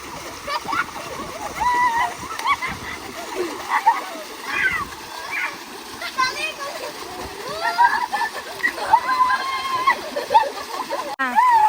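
Water from a borewell pump set splashes and gurgles in bursts as people bathe, with excited children's voices and chatter mixed in throughout.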